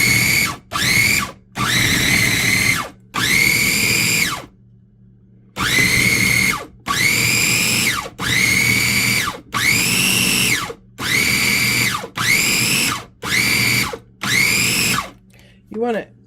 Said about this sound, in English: we're going to grind it up in the food processor.